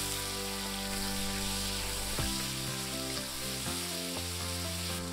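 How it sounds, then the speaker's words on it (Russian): Steady, dense sizzling of chicken frying in hot oil over high heat, close and continuous, with occasional stirring scrapes and no voices. "Курицу жарим примерно 3 минуты на сильном огне, регулярно помешивая."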